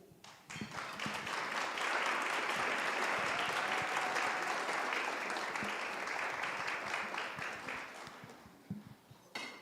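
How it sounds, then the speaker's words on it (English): A school audience breaks into sustained applause at a talk on AAPI identity, a dense wash of clapping that swells quickly, holds steady for several seconds, then thins out toward the end. "give Nico one more hand of applause"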